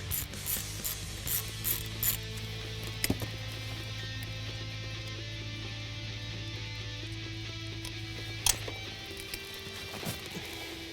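A hand ratchet loosens a ground strap bolt in the engine bay of a 2015-2017 Ford Mustang GT during a Roush supercharger install, with rapid clicking bursts over a steady low hum and a couple of sharp metallic knocks, no talking.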